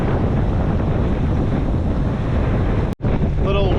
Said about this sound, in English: Little windy coming in today.